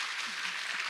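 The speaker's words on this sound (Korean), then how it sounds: "하나님의 마음으로 박수 좀 쳐줘." A church congregation claps together during a Sunday worship service, a steady, dense patter of hands heard fairly faint and unbroken for about a second.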